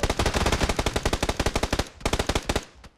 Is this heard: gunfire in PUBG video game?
yes